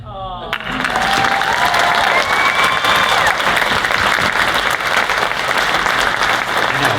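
Audience applause fills a panel discussion at the D23 Expo, loud, dense clapping that starts suddenly and holds steady, with some cheering mixed in.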